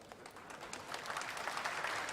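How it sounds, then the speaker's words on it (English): Applause from a crowd in a space mission control room, a dense wash of many hands clapping that builds slightly louder over two seconds, with no talk on top. "Oh, they're clapping something."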